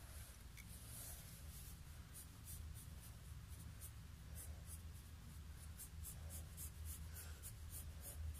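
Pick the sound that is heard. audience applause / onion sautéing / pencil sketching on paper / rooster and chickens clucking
pencil sketching on paper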